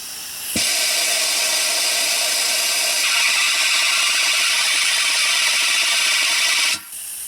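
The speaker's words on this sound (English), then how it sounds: "Now when it makes that noise, I'm ready to go. I can't draw any more vacuum." A loud, steady hiss of air being drawn through a coolant vacuum filler tool on a BMW X5 E70 with the N55 six-cylinder starts abruptly and holds for several seconds, shifting slightly in tone before cutting off at full vacuum.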